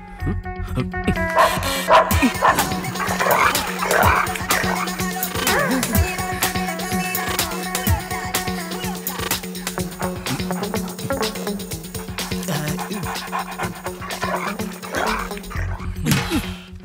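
A dog barks and whimpers during a tense dramatic film scene, with short yelps set against a dense, continuous background score that stays prominent throughout.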